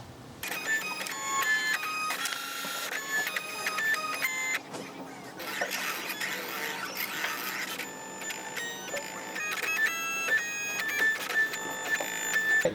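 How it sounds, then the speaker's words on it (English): A vinyl cutter works through vinyl lettering with bursts of whirring motor and stepping, pausing briefly between passes, moderately quiet and with no talk. "So we're going to use this one here, cut out Tim's lettering."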